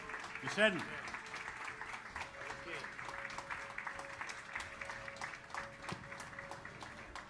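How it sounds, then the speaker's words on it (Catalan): Steady applause from an audience at a literary awards ceremony fills the whole stretch, moderate and slightly distant, with a few faint voices mixed in. "Un aplaudiment fort per a Ramon."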